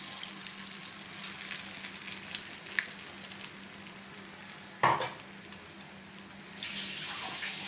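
Stuffed bread pakoda with aloo filling frying in hot oil, a steady soft sizzle and crackle throughout, with a sharper splash or stir partway through as more goes into the pan.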